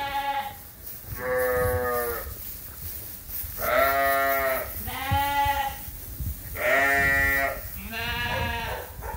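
Sheep and lambs bleat repeatedly in a flock pen bedded with straw, several loud, harmonic calls overlapping in irregular bursts, close by, with no talk.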